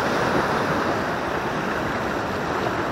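Large sea waves break along the shore during a fishing trip, a loud, steady roar of surf that fills the whole stretch with no pauses, alone without any talk.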